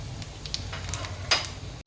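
Steady frying sizzle of tempering spices in hot oil for chickpea curry, with a few sharp crackles and pops, close by, no talking.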